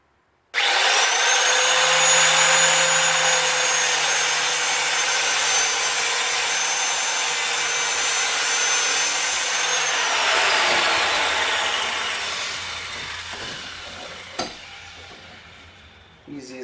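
A ball tip being sawn off a car antenna clamped in a vise: a loud, steady, high-pitched cutting whine that holds for about ten seconds, then slowly winds down and fades out, close up with no talking.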